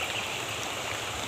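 Steady rain falls beside a fish pond, giving a soft, continuous broadband hiss with no distinct drops standing out and no voices.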